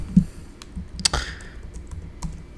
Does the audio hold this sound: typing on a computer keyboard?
yes